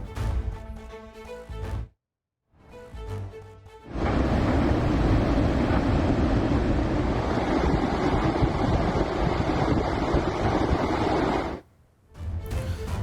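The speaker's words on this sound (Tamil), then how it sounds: "5 லட்சம் கன அடி நீர் திறக்கப்பட்டுள்ள நிலையில் வெள்ள நீர் பாய்ந்து ஓடுகிறது" Floodwater from the Sardar Sarovar dam, released after heavy rain at about five lakh cubic feet, roars past in a loud, continuous rushing wash for roughly seven seconds, bracketed by unrelated tonal sounds.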